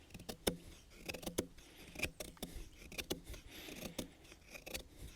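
A knife carves feather shavings along a wooden stick, giving quiet close scraping strokes repeated in an irregular rhythm with sharp little clicks between.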